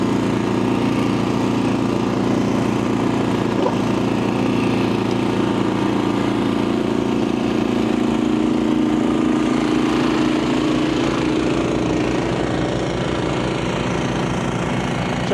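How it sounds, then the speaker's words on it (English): A Honda HSS1332 snowblower engine runs flat out, a loud, steady, rough mechanical drone with constant chugging vibration that continues unbroken, no voices. "Just ghost riding that snowblower."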